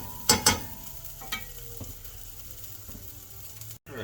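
Beef stir-frying in a pan gives a soft continuous sizzle, with a few sharp scraping and clattering stirs near the start and intermittent lighter knocks afterward.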